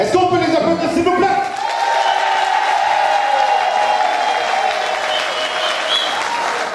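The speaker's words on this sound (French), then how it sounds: "Est-ce qu'on peut les applaudir, s'il vous plaît?" Wedding guests applaud the couple at an evening dinner reception, loud continuous clapping from the crowd with a voice speaking over it at the start and music playing beneath.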